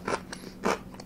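Crunchy golden croutons toasted in the oven are bitten close up, giving four sharp crisp crunches in quick succession, loud and dry, with no talking.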